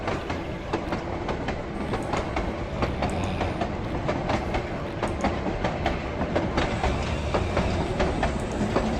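A big, loud train rolls past in the point-and-click adventure game The Night of the Rabbit, a steady close rumble with rapid rhythmic clickety-clack of wheels on rails, alone without any voices.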